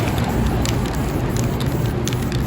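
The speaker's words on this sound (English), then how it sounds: "By spraying to the side." A spray paint can hisses in a continuous loud burst as a street artist sprays to the side of the painting, a steady close rushing sound with no talk over it.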